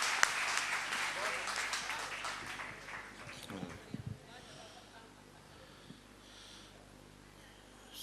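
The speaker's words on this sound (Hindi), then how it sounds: "मैं चाहूंगा भरपूर तालियां बजाकर आप स्वागत करें आदरणीय सुरेंद्र शर्मा।" At a kavi sammelan poetry gathering, an audience claps to welcome a poet; a lively burst of applause lasts a few seconds, then tapers off into a quiet room.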